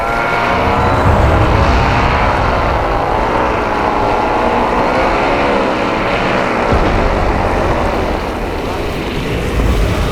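A paramotor engine drones loud and close as the pilot flies in to land, a steady propeller hum mixed with heavy wind buffeting across the whole stretch.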